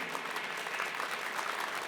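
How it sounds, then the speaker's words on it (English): Applause from the audience at a felicitation ceremony, a steady, dense wash of many hands clapping that continues evenly for the whole two seconds with no voices rising above it. "Let's give a very warm round of applause."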